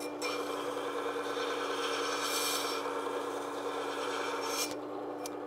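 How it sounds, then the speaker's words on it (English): Woodcarving gouge being sharpened, rocked across an abrasive to hold an even bevel; a continuous soft, close rasping rub runs steadily through, with faint rhythmic swells as the tool rocks. "I'm rocking the tool, and I'm trying to maintain an even bevel as I'm spending even time across the whole thing."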